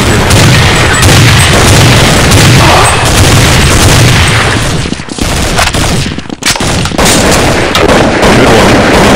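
Loud, sustained gunfire in Counter-Strike 1.6, dense overlapping shots and booming reports filling the whole stretch, with brief dips near the middle.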